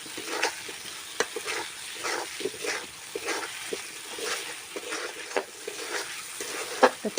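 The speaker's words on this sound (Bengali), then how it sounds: "আলুগুলো, দিয়ে দেব, এর সঙ্গে ভাজা হয়ে যাবে" Potatoes frying with spice paste in a pan for a Bengali chicken curry, a continuous sizzle broken by frequent spatula scrapes and stirs in an irregular rhythm over several seconds, with no talking.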